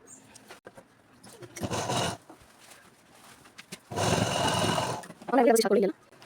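A sewing machine stitching school uniform trouser pieces from one side to the other, heard as two short whirring runs separated by quiet pauses, followed by a brief voice near the end.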